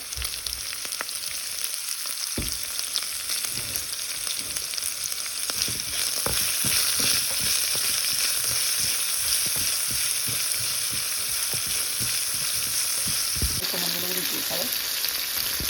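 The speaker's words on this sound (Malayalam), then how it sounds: "ഇതെല്ലാം കൂടെ നമുക്ക് നന്നായിട്ടൊന്ന് വഴറ്റിയെടുക്കാതെ" Ingredients for a Kerala-style mango pickle, seasoned with salt, sauté in a pan. A loud, continuous frying sizzle runs with frequent stirring clatter and scrapes. The sizzle drops away sharply near the end, leaving softer handling noises.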